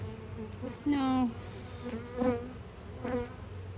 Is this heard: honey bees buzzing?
yes